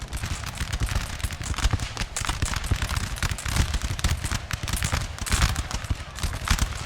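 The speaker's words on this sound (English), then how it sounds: "Fire a bit of canister on them" Cannon fire with canister shot in Napoleon Total War, a dense rapid crackle of overlapping blasts and musketry rattling continuously, loud and busy throughout.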